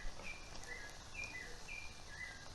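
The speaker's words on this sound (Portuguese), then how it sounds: "E ouvindo talvez o passarinho que está feliz da vida aí fora." A small bird sings outdoors, heard faintly from a kitchen where food is frying: short, high repeated chirps in a loose rhythm over a steady hiss.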